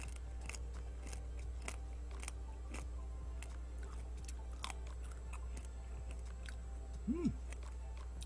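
Soy sauce marinated crab is eaten whole with its shell, producing a steady series of close, crisp crunching and cracking bites over a quiet, low background hum.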